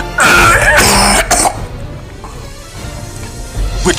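A man coughs and clears his throat in a loud, rough burst up close, then goes quieter with a few strained, raspy sounds.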